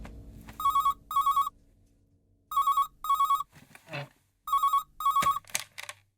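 A landline telephone rings in repeated electronic double bursts, loud and close, with short gaps between them and brief rustling noises in the pauses.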